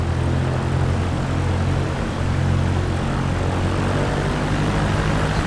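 Propeller aircraft engine under throttle in Microsoft Flight Simulator, a loud, steady droning hum with a low pulsing tone, continuous and alone throughout.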